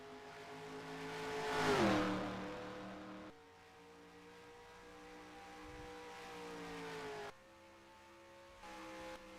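Race cars at speed on Darlington oval during a USORL Lytes Series event, one loud engine swelling and fading as it passes close by, then steadier distant engine drones from other cars continuing on track.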